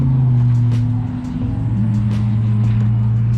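Cars run laps at Autobahn Country Club during a track day, among them a BMW M2, giving a continuous loud engine drone with shifting pitch as they pass nearby, with no talking.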